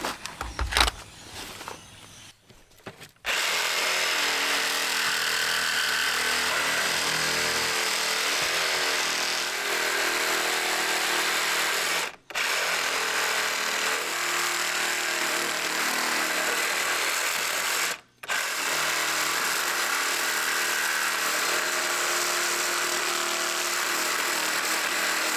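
A power tool with a dull blade cuts through metal straps beneath a mobile home trailer during rim joist repair, a steady loud grinding whine running for over twenty seconds with two brief pauses.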